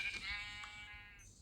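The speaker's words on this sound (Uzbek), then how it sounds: "Mana yana bitta qo'y." A Minecraft sheep gives one short, wavering bleat, clear and alone, fading out after about a second.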